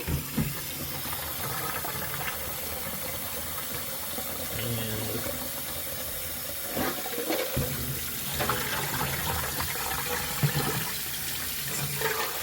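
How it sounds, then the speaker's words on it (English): Cool tap water runs steadily into a sink over hard-boiled eggs, a continuous close rush with a few splashes and clunks as the eggs are rinsed. "Then I'm going to rinse them with cool water."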